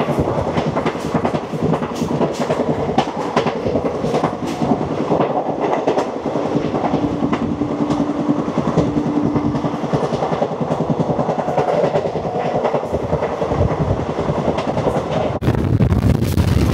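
Train 15909, the Dibrugarh–Lalgarh Avadh Assam Express, running at speed, with continuous loud rumble and steady clickety-clack of wheels over rail joints, close and unbroken, with a brief change in tone near the end.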